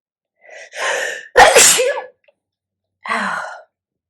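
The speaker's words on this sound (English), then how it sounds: "I'm going to sneeze" A single loud close sneeze with a sharp inhaled build-up just before it, followed after a pause by a short breathy exhale or sigh, with silence around it.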